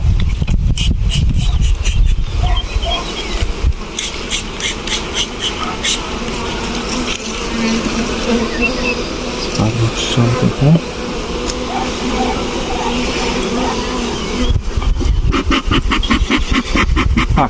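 A dense swarm of honeybees drones loudly and continuously close by at an open hive, a steady buzzing hum with occasional clicks and handling noises.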